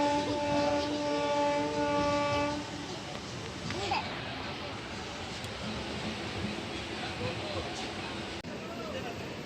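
The Kamrup Express pulls away from a station with a sustained horn blast at the start, then steady rumbling of the rolling train while voices and passenger chatter carry on underneath.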